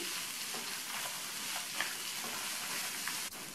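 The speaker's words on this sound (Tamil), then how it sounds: "இந்த முள்ளங்கி எண்ணெயிலேயே நல்லா வதங்கணும்." Cut radish sautéing in hot oil with steady frying sizzle and occasional stirring scrapes, continuous and close, with no voices.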